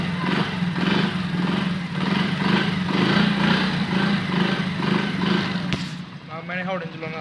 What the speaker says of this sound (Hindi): चलो बाइक स्टार्ट करके देख लेते हैं